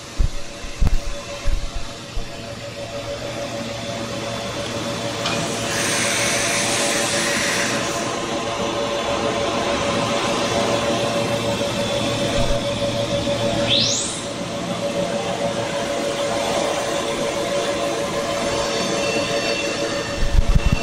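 Holz-Her Dynestic CNC router making its final passes to free nested parts, a steady close mechanical drone and hum with a brief high whine and some hiss bursts, fairly even in level and without talk.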